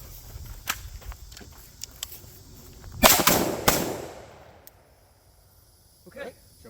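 Rifle rapid fire on an evaluation course: a tight cluster of loud, sharp shots around the middle, preceded by fainter clicks and handling noises, with a quieter tail afterward and brief sounds near the end.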